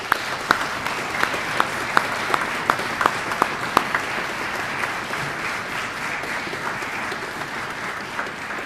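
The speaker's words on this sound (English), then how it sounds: "massive round of applause." An audience at a spring orchestra concert applauds the seniors in a dense, sustained wash of clapping, with a few sharp individual claps standing out early on.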